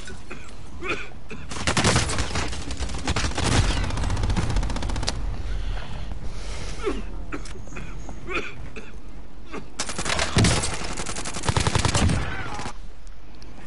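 Gunfire crackles through repeated bursts of rapid automatic shots, loud and close, with several heavy volleys and quieter stretches between them.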